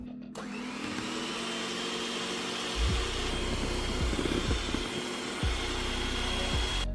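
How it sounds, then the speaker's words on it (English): Three eggs being whisked for a sponge cake batter, a loud, steady motorized whirr that runs throughout, with occasional knocks and rattles against the bowl. "First, I'm going to whisk 3 eggs."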